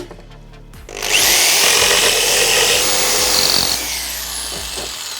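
A power saw fitted with a finer blade cuts through tongue-and-groove wood cladding, a loud steady whine that kicks in after a quiet second and runs for several seconds before easing slightly at the end.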